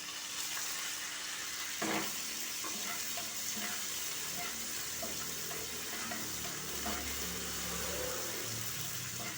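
Curry leaves and six chopped green chillies fry in hot oil for a mixed vegetable fry, giving a steady loud sizzle. Occasional stirring clatters come from the pan.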